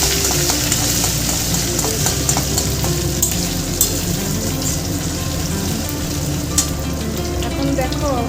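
Spice paste of ground fennel, coriander, cumin, chilli, turmeric and salt, with ginger paste and bay leaf, fries loudly in a pan for jackfruit curry. It crackles steadily up close, broken by sharp stirring clatters and spatula taps.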